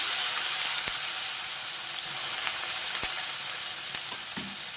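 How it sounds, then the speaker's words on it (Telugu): Brinjals sizzle loudly in a hot pan after a sprinkle of water, making a dense continuous hiss with a few faint clicks and taps over the steady frying noise. "కొంచెం వాటర్ చిలకరించుకుందాం జస్ట్ ఇట్లా"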